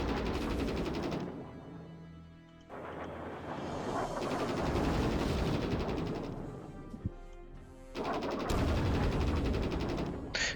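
Bursts of rapid machine gun fire and booming impacts from an aircraft strafing run in a World War II strategy video game, rattling in long loud volleys with brief lulls between them.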